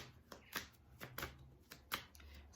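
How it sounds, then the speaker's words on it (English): A deck of angel oracle cards is shuffled close up in a series of quick riffling bursts with brief pauses between them, with no talking. "So shuffling now for Saturday"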